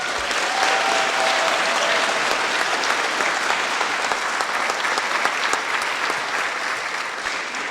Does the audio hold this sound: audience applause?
yes